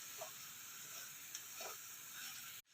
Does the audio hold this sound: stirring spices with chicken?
yes